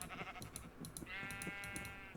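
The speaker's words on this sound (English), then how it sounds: "we have a lot of sheep now." Several sheep bleat in Minecraft, short repeated game bleats stacking over a low ambient bed and a sustained tone, fairly close and clear with no talking.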